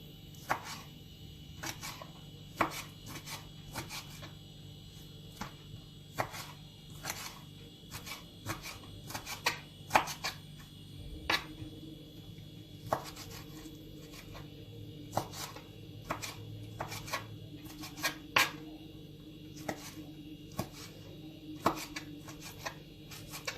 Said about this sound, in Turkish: Onları doğrayacağım.